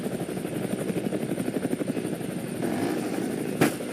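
Steady helicopter rotor thrum with a rhythmic chopping pulse and a whining engine in the video game GTA, continuous throughout, with a brief louder burst near the end.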